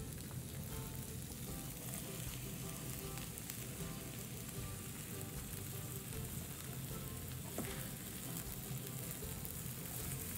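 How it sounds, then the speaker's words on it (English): Zucchini and onion sautéing in a pan for succotash give off a soft, steady, rain-like sizzle that carries on evenly throughout. "Let that saute for a few minutes."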